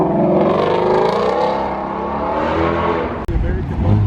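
A modded American muscle car accelerates away from a car show with a loud, sustained engine roar that climbs in pitch. People talk over it, and a sharp knock comes near the end.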